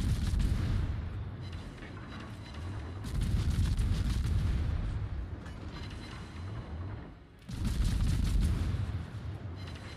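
A naval gun salvo from a Worcester tier 10 American light cruiser in World of Warships booms in heavy rumbling waves, loud blasts rolling out at the start, midway and again near the end over a low, constant battle roar.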